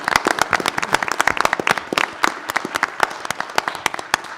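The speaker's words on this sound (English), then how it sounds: "How about one more round of applause," Sharp individual claps from a modest group at a Vicksburg Community Schools board meeting form a brisk, uneven round of applause that is loud and close and carries no talk.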